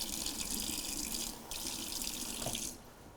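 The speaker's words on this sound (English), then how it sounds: "I'm gonna use a little bit of hot water," Hot water runs steadily from a kitchen tap in a close, hissing stream for a few seconds, then shuts off, leaving a faint drip and room quiet.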